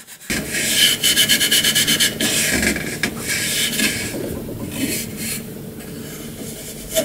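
Very fine 000 steel wool rubbed over a shellac finish on a small wooden piece being restored, giving a steady dry rasping scrape with rhythmic strokes early on, close and fairly loud, with no talk.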